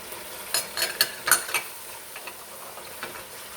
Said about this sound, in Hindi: अब हम इसमें डाल देते हैं ये लहसुन।